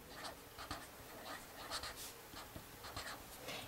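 A black pen writes on paper in a quiet room, faint scratchy strokes coming in short bursts with pauses between them.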